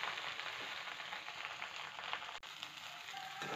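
Gongura leaves frying in oil for Andhra-style pickle, a soft continuous sizzle and crackle with no talk, quiet and close, with a brief dropout partway through.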